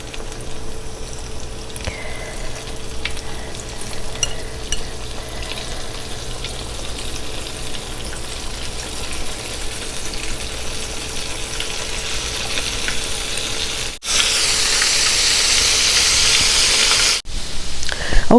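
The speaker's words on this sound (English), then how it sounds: "All right, see how that's sizzling up right away," Marinated chicken sizzles and fries in hot oil, a loud, continuous crackling hiss close up that swells even louder near the end.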